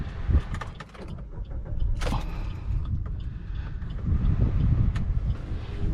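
A Suzuki Baleno hatchback starts up and its air conditioning comes on, giving a low steady engine rumble with mechanical clicks and a whirring blower that swells midway, with no one speaking.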